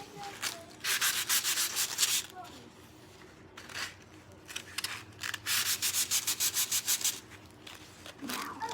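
Sandpaper rubbed back and forth over a small hand-whittled wood piece, giving dry rasping strokes in quick bursts with short pauses between them, close and moderately loud with faint voice-like sounds underneath.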